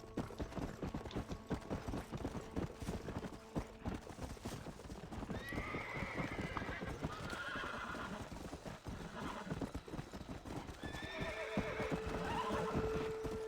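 Rapid, rhythmic hoofbeats of a galloping horse in Red Dead Redemption: Undead Nightmare run throughout, with several whinnies breaking in over a busy, steady background.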